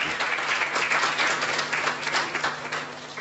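An audience applauding after a spiritual talk, dense continuous clapping from a crowd at moderate loudness for the whole stretch, fading slightly at the end.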